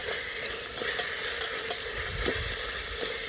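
Steady sizzling as ginger garlic paste fries in a hot pan for biryani, with occasional soft stirring scrapes, close and continuous.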